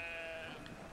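A sheep bleating in the video game Brothers, one short, faint bleat under a steady background drone.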